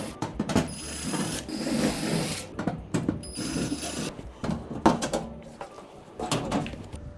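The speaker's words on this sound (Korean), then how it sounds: "세탁기 뒤쪽으로 와서 일단 뒤에 있는 백판을 먼저 열어 주겠습니다" The back panel of a drum washing machine comes off, with a run of plastic and metal clicks, knocks and rattles, some of them sharp and close.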